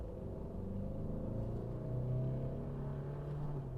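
A stock Tata Altroz diesel car pulls hard in second gear from about 2000 RPM, a steady low engine drone with rising harmonics, close and continuous for the whole stretch.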